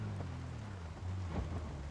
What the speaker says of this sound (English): Now, it's not the greatest weather. It's rainy